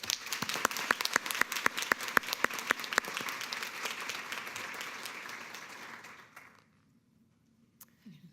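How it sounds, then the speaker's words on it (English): An audience at an accessibility conference gives a short round of applause: a few sharp individual claps and then a dense wash of clapping that fades out after about six seconds. "So let's give them a quick round of applause."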